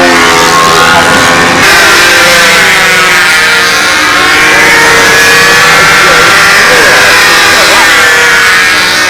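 A loud, steady four-stroke model airplane engine drone in flight, buzzing and high-revving, holds nearly constant for several seconds, its pitch shifting slightly as it passes.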